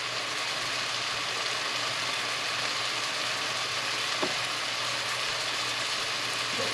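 Homemade chili simmering and sizzling in a pot, a steady close hiss throughout with no talking.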